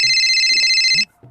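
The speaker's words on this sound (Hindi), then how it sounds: "बेटा उस बहरे क्लाइंट का फोन आ गया।" A telephone rings with one loud, steady electronic trill lasting about a second before it cuts off, with faint voices underneath.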